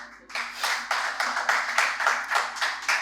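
Live audience at a Hindi poetry recital clapping steadily in a dense, rhythmic burst of applause that fills the hall, with no voices over it.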